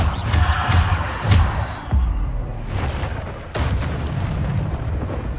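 Bombarda explosion spells going off in Hogwarts Legacy combat, several deep booming blasts in quick succession, loud and close, each with a sharp onset and a rumbling tail, amid continuous battle clatter.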